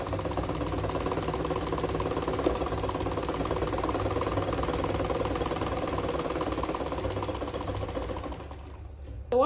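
A sewing machine stitches fabric for a sleeveless gown in a continuous, even run of rapid mechanical chatter, close and moderately loud, ending with a brief stop and a final clunk.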